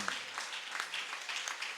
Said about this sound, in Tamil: என்ன விசுவாச கைத்தட்டு